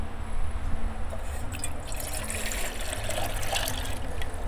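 Water pours steadily into a pot with a bright, splashing trickle that continues throughout, close by and moderately quiet, outdoors off grid.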